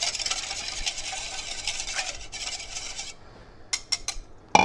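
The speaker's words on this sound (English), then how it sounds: "So we'll whisk that up a little bit." Dry ingredients for low-carb keto hamburger buns being whisked in a bowl, a steady close rasping swirl for about three seconds, then a few sharp clicks and taps of the whisk against the bowl.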